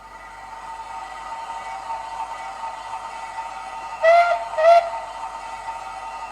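A model SR Merchant Navy steam locomotive, 'Channel Packet', sounding two short whistle blasts in quick succession over a steady background hiss, fairly close and clear.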